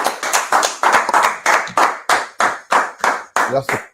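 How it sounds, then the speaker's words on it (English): A small group at a men's gathering claps in a steady, evenly spaced rhythm of about a dozen sharp, close hand claps, with a voice briefly heard near the end. "Clap it up. We'll clap it up."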